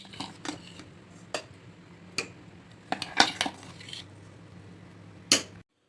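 Vegetable paste is scraped from a mixer jar into a cooker, with sharp scattered clinks and knocks of utensil on metal over a faint steady hum, close and irregular, without talk.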